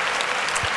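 A short burst of crowd applause, many hands clapping densely and loudly.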